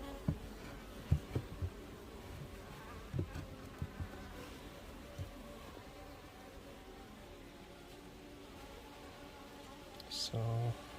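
Honeybees buzzing from an opened Danish trough hive in Tiset, Denmark, a steady close hum of many insects with occasional louder passing buzzes and faint knocks of wood.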